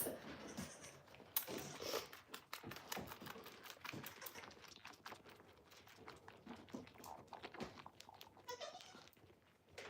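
Goats on a goat farm, bleating close by amid scattered knocks, clatter and shuffling movement, with busy bursts of noise throughout and no clear talking.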